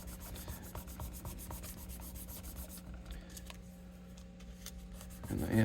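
Steady rhythmic sanding on a Telecaster guitar body, close scratchy back-and-forth strokes repeating evenly at moderate volume, with a faint hum underneath and a brief louder rub at the end.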